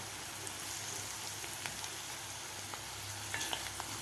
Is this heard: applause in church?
no